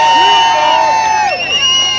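A large crowd at a campaign rally in Preston cheers and whoops loudly, with high shouts and whistles rising over a continuous dense roar for the full two seconds.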